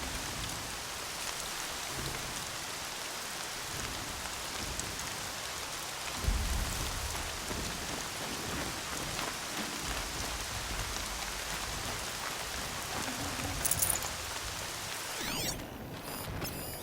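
Steady, heavy rain falls throughout a scene in the video game Horizon Zero Dawn, a constant close hiss of drops with a couple of brief louder bursts and no talking.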